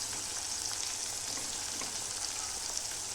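Chili powder and turmeric frying in oil, a steady, dense sizzle that holds even and close for the whole stretch with no voices.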